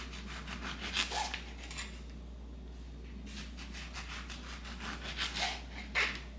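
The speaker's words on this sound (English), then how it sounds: "I'm using a serrated knife, but I'm not sure if that's the best bet." A serrated knife saws through fruit being sliced for drying, giving repeated rough rasping strokes close by, in bursts with brief pauses between cuts.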